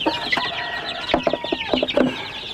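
Hens clucking among Sultan chicks and other young chicks in a coop, several short clucks and calls in quick clusters, fairly near, over a busy farmyard background.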